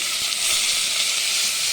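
Potato curry sizzles loudly in the pan as water hits it, a harsh, bright hiss that stays strong and steady for a couple of seconds, alone without voices.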